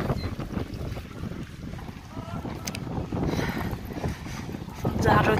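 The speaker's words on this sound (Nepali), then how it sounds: "यति धेरै हावा चलिरहेको छ है, तपाईँहरूले भिडियोमा आवाज पनि सुन्न सक्नुहुन्छ" Strong wind buffets the microphone at the Alacati view tower, a low, rumbling roar with gusts that surge and ease throughout, louder toward the end.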